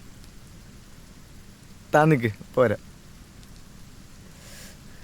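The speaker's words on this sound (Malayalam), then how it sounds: "മഴ ഇപ്പോൾ കുറയും തോന്നില്ല." Steady rainfall patters outdoors as a soft, even wash throughout, with a man's brief spoken remark rising over it midway.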